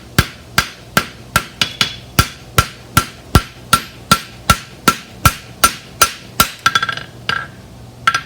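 A hammer rings on the outside edge of a deep-seated bar horseshoe on an anvil, about eighteen sharp, evenly spaced metallic strikes at a steady rhythm, close and loud, ending with a quick rattle and a couple of lighter taps.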